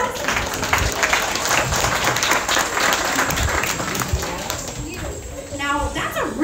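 Audience applause at a live animal show, a broad burst of clapping that thins out toward the end, with talk and a few faint bird-like chirps near the close.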